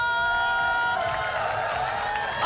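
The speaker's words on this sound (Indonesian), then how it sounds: "Tepuk tangan dulu untuk Reno." A studio audience on the Indonesian TV quiz show Kuis Siapa Berani bursts into applause and cheering. The sound is loud and continuous and mixes with bright show music for a couple of seconds.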